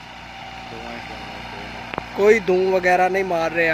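A 1992 Massey Ferguson 375 tractor with a Perkins engine and a 13-tine plough idles in a low, steady drone, first alone and then under someone talking.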